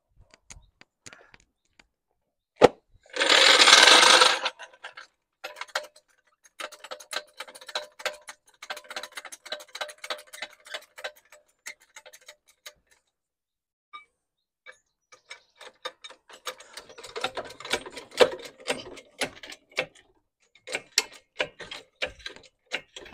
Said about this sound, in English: let's jack this up a bit.